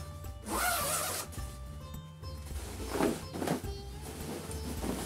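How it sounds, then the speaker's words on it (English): A zipper runs up a cold-weather suit in several close, scratchy pulls, loud and rasping, with soft fabric handling and rustles between them. "I just zip it up."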